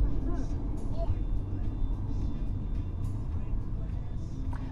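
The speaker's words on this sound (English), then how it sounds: "There's been a lot of cars on this road today" Steady low rumble of cars on a wet road on a rainy day, a continuous traffic drone with passing swells, loud and close throughout, with no clear speech over it.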